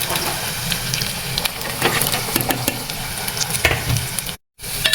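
Onions sizzle loudly in hot oil with cumin, mustard seeds and fenugreek while being stirred for a Telangana-style dried fish curry, a steady close frying hiss with scattered pops and crackles and no speech.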